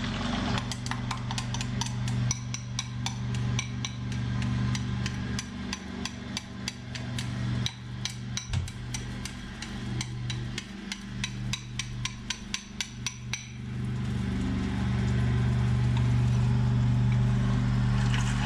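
Eggs beaten quickly in a bowl for gyoza filling, a rapid run of sharp clicking strikes from the utensil against the bowl, close and regular, stopping after about fourteen seconds, followed by a low steady hum.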